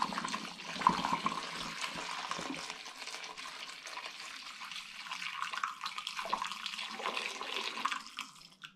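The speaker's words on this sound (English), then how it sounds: "I'm now going to top it up with the syrup and sugar solution." Syrup and sugar solution is poured into a three-quarters-full demijohn while homebrewing an all-grain sweet rauchbier, giving a steady, close liquid gush and trickle with no voices.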